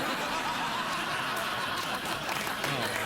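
A late-night talk show studio audience applauds, steady clapping mixed with chuckles and laughter that runs evenly throughout.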